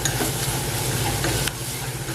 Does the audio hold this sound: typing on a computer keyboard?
no